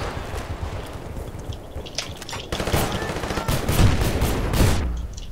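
Weapon fire in the video game Battlefield Bad Company 2: rapid clustered shots and bursts in an online squad deathmatch, moderately loud over a steady game background.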